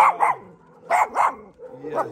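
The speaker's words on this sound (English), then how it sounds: "The dogs can run and play and enjoy." Dogs bark in a small side park at a rescue, several short barks in quick pairs and a closer whining yip, with people talking nearby.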